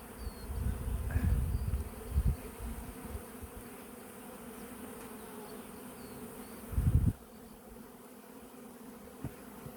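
A steady honeybee buzz hums throughout around a hive, a dense swarm drone with occasional louder bursts of wingbeats passing close, outdoors with no voices.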